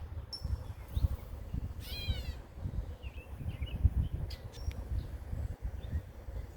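A brief, cat-like mewing call from a gray catbird, with a few short chirps after it, over a steady low outdoor rumble.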